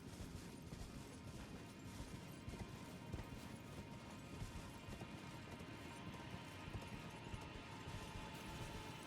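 Hooves of the spectral steed Torrent galloping in the Elden Ring video game, a steady fast clip-clop that runs continuously at close range with no talk over it.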